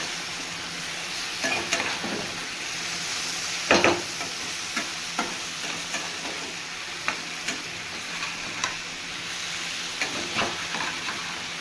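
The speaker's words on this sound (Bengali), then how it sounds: "এবারে আমি ভালো করে কষিয়ে নিলাম" Potato curry with shrimp paste stir-fried in a pan, giving a steady sizzling hiss with periodic scraping strokes of a spatula every second or so, close and moderately loud with no talking.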